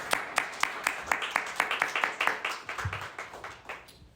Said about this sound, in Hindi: आइए खुदा उनके जलाल के लिए जोरदार तालियां बजाएं